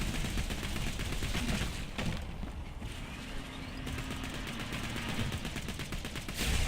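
Rapid gunfire in Borderlands 2 runs through the whole stretch as a dense, steady crackle of shots over a low rumble, with a brief lull near the middle.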